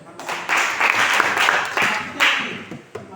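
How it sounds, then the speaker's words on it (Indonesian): Classroom applause rises in a few short waves of clapping, moderately close, with a voice briefly heard between bursts. "Oke, tepuk tangan untuk Chris itu."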